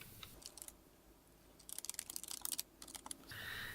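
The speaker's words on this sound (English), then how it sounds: "I'm going to type in bb.moveobjects on" Keyboard keys clatter in quick bursts as a cheat code is typed into a Sims 4 console, a sparse tap or two first, then a dense flurry of keystrokes, close and fairly quiet, with no one speaking.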